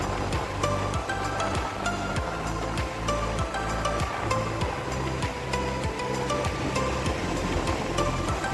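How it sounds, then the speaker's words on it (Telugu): Sea waves wash in steadily at Ozran beach, Little Vagator, Goa: a continuous, fairly loud surf roar with rolling low rumble throughout and no voices. "ఇక్కడ అలలు వస్తున్నాయి కదా"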